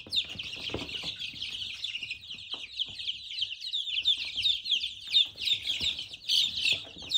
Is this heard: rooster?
yes